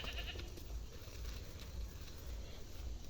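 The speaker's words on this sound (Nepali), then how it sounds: "बाख्रा कराउँदै छ।" A goat bleats faintly outdoors in the countryside, mixed with steady wind noise and low rumbling.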